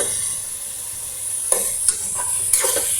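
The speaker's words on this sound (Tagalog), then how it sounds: "Chicken ang ating panahog ngayon. Gigisa natin ito mga sis." Chicken sautés in a pan for sopas with a constant bright sizzle, broken by a few sharp scrapes and clacks as a utensil stirs it.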